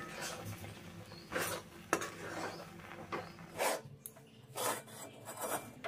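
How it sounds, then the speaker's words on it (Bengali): Rice flour and water are stirred together in a pan on a gas stove over a medium flame, making repeated close scraping and rubbing strokes against the pan bottom. "এখন গ্যাসের ফ্লেমটা মিডিয়ামে রেখে জলের সাথে চালের গুঁড়োটা ভালো করে মিশিয়ে নেব।"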